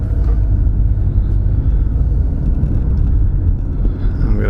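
A car drives along a street past a narrow two-story building in Scott, Louisiana, heard from inside as a loud, continuous low engine and road rumble with no breaks.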